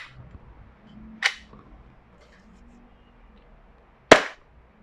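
A WE Glock 17 Custom/Force Series airsoft gas blowback pistol fires two sharp, snappy shots several seconds apart, each a quick crack followed by a brief mechanical clack, with quiet room noise between them.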